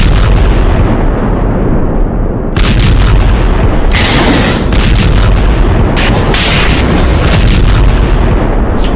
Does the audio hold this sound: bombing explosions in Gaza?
yes